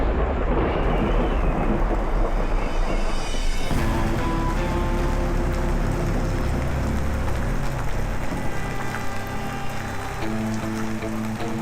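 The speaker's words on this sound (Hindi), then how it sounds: "बादल छा गए थे और हल्की सी बारिश भी हुई जो 5-6 मिनट तक चली।" Light rain falls in the mountains during army survival training, a steady patter over a low rumbling hiss that swells at first and then settles, with no voices.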